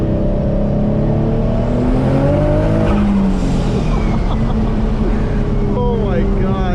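A 570 HP twin-turbo Infiniti G35 coupe drives hard, its engine droning loud and steady with rising and falling pitch sweeps as it revs through gears, with a voice talking over it.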